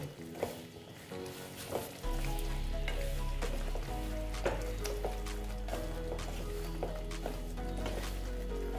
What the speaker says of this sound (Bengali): দিয়ে এটাকে আবার আমি ভালো মতন কষে নেব।